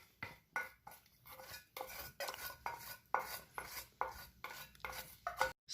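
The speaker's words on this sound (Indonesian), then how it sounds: "Cukup kita aduk saja seperti itu, tidak usah menggunakan mixer." Brownie batter for steamed brownies is stirred by hand in a bowl without a mixer, giving quiet, rhythmic scraping strokes about twice a second, each a brief rasp of spoon against the bowl.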